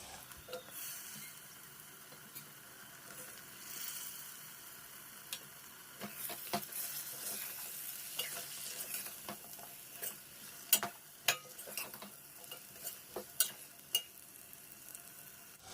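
Soft, steady sizzling of potatoes frying in spice masala in a pan, punctuated by sharp clicks and scrapes of a spatula stirring at irregular intervals.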